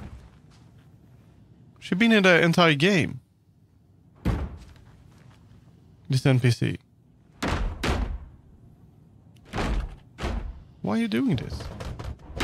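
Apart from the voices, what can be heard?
NPC banging on a door in video game Alan Wake 2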